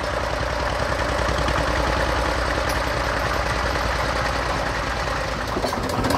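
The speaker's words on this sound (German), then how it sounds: "So, Robin, stell den Trecker ab." An Allgeier tractor engine idles close by, a steady low, rhythmic chugging with a faint knock that runs unbroken throughout.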